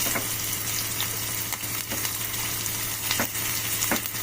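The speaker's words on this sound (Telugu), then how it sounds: "కొంచెం గోలిన తర్వాత మంచిగా ఫ్రై చేసుకోవాలి. స్టవ్ సిమ్లో పెట్టి" Pesarattu upma with green chillies and curry leaves frying in a pan on a stove turned low, a continuous close sizzle with a few brief scraping stirs, no voices.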